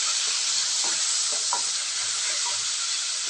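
Yellow cucumber chutney with onions being stirred in a pan, a constant close sizzling hiss with soft scraping strokes of the spoon mixed through.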